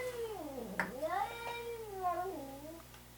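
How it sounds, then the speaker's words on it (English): A cat in an engine workshop meows several times in a drawn-out, wavering voice, fairly quiet and close by, with a faint steady hum underneath. "That's my cat, the shop cat."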